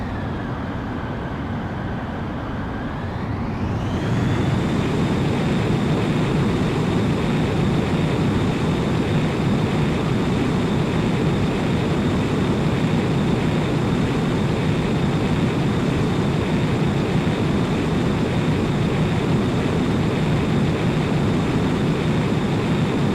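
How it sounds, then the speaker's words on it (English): A jet fighter in Ace Combat X spools up its engine and rolls for takeoff, a loud, steady roar that swells after a few seconds and holds with a rising whine. "Griffith 1, you are cleared for takeoff."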